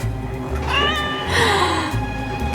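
A cat lets out a drawn-out, wavering meow, close and clear, over a low background hum.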